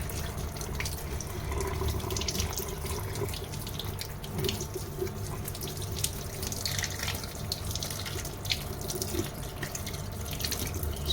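Tap water runs steadily into a sink as salted fish (feseekh) is washed under it, a continuous close splashing gush with small spattering variations and no speech.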